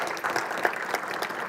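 A church congregation applauds briefly, a short burst of scattered clapping from a crowd in a reverberant hall.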